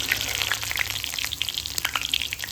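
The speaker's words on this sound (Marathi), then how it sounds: "बघा, आपलं लसूण छान फ्राय झालेलं आहे." Crushed garlic fries in hot oil in a pan, giving a steady close sizzle dotted with rapid crackling pops, with no voices over it.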